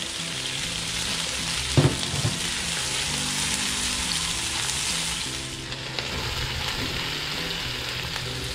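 Garlic and onion fry in a hot pan for beef bistek, giving a steady, dense sizzle throughout with a couple of brief stirring clicks early on.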